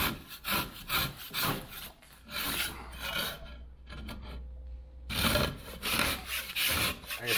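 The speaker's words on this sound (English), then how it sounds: "I'm gonna grind this down." Harsh abrasive rasping from material being ground down on an interior wall while a kitchen wall is built, in rhythmic strokes, close and loud, briefly pausing midway before resuming.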